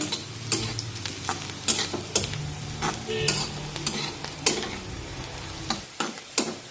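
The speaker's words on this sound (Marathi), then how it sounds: "आता याला एकसारखं असं हलवून घेऊ आणि मऊ होईपर्यंत शिजून घेऊ" Thinly sliced onion frying in oil, stirred with a spatula until soft, a constant sizzle broken by regular scraping strokes and clinks against the pan.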